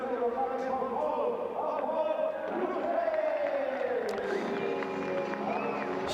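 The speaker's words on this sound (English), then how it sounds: "Huge applause for the Baporo Motorsport driver, scoring yet another victory" A crowd cheers and applauds the race winner at the Barcelona round of the SEAT Leon Eurocup, a continuous roar of voices with shouts at moderate distance.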